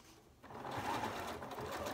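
A sewing machine runs steadily, stitching a diagonal seam through crumb quilt fabric pieces placed right sides together, starting after a brief quiet moment and then whirring continuously at close range.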